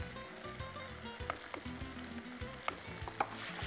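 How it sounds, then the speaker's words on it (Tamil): Tomatoes sauté in a pan with turmeric, chili and coriander powders, giving a steady close sizzle with stirring scrapes and a few sharp clinks of a utensil against the pan, no talk. "ஸோ தக்காளி நல்லா வதங்கிடுச்சு."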